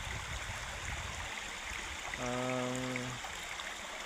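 A creek flows steadily past an old cement structure, a continuous broad rush of water filling the scene from start to finish, with a brief tonal hum briefly cutting through midway.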